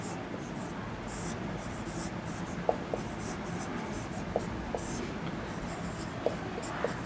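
Quiet scratching of writing on a board during a maths lesson, with a soft, continuous texture and a few faint, sharp ticks.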